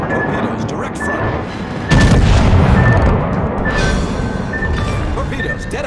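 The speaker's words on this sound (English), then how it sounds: "Enemy destroyer blown up." An enemy destroyer blows up in a naval battle video game, a heavy booming blast landing about two seconds in amid continuous cannon fire and rumbling gunfire, with a short tone beeping repeatedly over the din.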